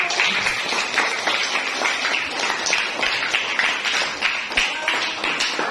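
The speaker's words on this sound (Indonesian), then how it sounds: "Pohon literasi kelas 74 bagus sekali, tepuk tangan dulu." Pupils in a junior high school classroom clap together, a steady burst of close, dense hand claps running throughout without talk over it.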